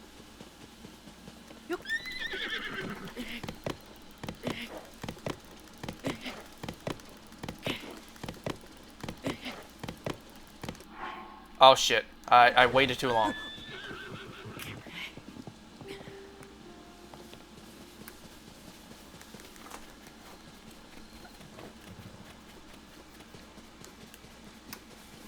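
A horse in Tears of the Kingdom whinnies loudly near a fire, with steady clip-clopping hooves throughout; someone talks briefly and exclaims partway through.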